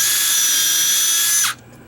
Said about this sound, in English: is a self-centering drill bit